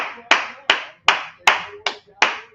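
Six sharp, loud claps ring out in a locker room, evenly spaced about a third of a second apart, each crisp with a short echo tail.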